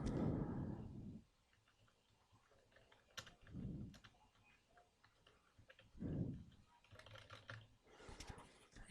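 Keys on a computer keyboard tapped while entering text in AutoCAD, soft irregular clicks in short bursts, partly under a low rumble of room noise and brief faint murmurs.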